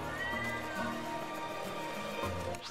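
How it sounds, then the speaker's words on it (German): Cat meowing inside the Super Mario 3D World: Bowser's Fury video game, a sustained mewing call set against busy game music and effects, clear and steady across the whole moment without any talk. "Da ist ein Kätzchen neben mir."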